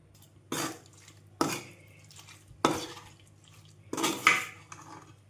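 Bitter gourd pickle pieces stirred in a bowl, with four distinct scraping, clattering strokes of a utensil at regular intervals and quiet pauses between them, close and without talking.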